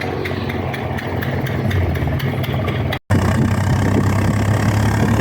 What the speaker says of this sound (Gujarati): ઓટો રિક્ષામાં ફોર વ્હીલ બનાવી નાખ્યું